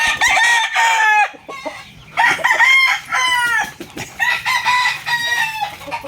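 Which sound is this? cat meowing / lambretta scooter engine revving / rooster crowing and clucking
rooster crowing and clucking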